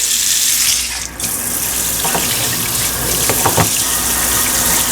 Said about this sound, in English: get this doggone waterfall faucet